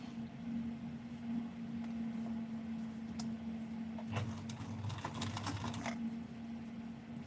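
A sewing machine motor hums steadily and quietly, then its needle chatters in a quick run of clicking stitches through thick fabric.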